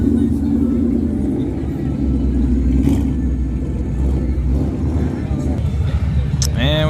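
A loud white Ford Mustang 5.0 S550 rumbles past at a Saturday night car meet outside an IHOP, its steady engine drone filling the clip with crowd chatter and other traffic underneath.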